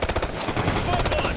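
Rapid automatic gunfire in the tactical shooter Ghost Recon Future Soldier, loud sustained bursts with sharp repeated cracks under brief game voice chatter.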